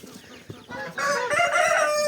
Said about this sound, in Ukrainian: Зараз півень пущу